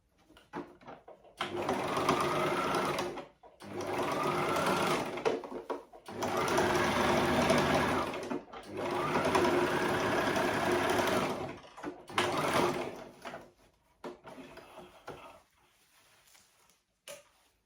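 A sewing machine stitches a satin-lined pleated rose turban in several long, steady runs of close, whirring motor and needle sound, each separated by brief pauses as the fabric is repositioned.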